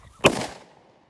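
A homemade firework missile goes off with one sharp, loud burst that decays quickly into a short rushing tail before falling silent.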